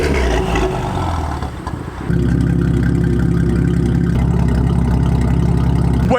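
A BMW M4 engine runs loud and close with no talk, a steady heavy rumble that dips briefly and then settles into a stronger, continuous low drone.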